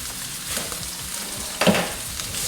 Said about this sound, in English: And we're searing that